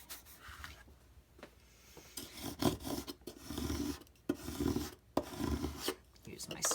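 A scraper tool drags across a Cricut cutting mat, lifting off small cut paper pieces with soft, uneven scratchy strokes and occasional taps. The sound is close but quiet.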